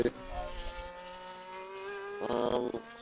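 Mercedes race car in a racing video game, its engine holding a steady high whine with rising harmonics, then a brief louder engine surge near the end, with faint commentary voices underneath.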